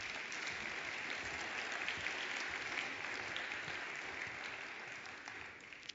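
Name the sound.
applause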